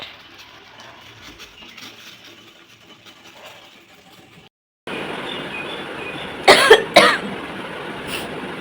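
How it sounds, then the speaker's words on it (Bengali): A woman coughs twice in a sharp, close burst while preparing breakfast with tea water boiling in a home kitchen, with steady background noise beneath and no talk. "সরি আমার কাশি হচ্ছে এত"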